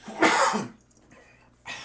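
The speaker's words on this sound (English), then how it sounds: "I coughed once" A harsh, close cough bursts out, followed by a brief quiet stretch and the start of another cough at the end.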